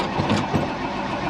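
A customized 1954 Chevy hot rod with an electric fuel pump cranks on a tired battery without catching, its starter churning in a few uneven pulses, loud and close.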